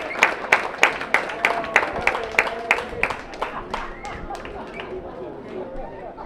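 Baseball fans clap for a Sodbusters player during the season-finale game against the Fremont Moo. Sharp, rhythmic claps ring out near and loud at first, then thin out and fade into a murmur of crowd chatter.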